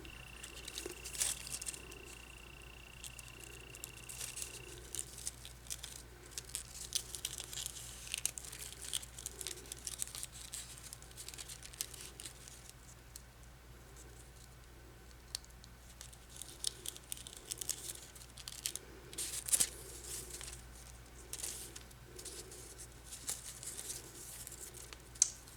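Aluminium foil crinkles and crackles softly in scattered bursts as a piece is cut off and handled close by, with quiet ambient hum underneath and no talking.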